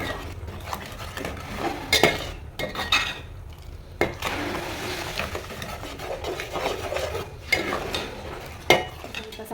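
A spoon scrapes and stirs ginger-garlic paste and spices in a frying pan over low heat, with steady clinks against the metal and a soft sizzle underneath.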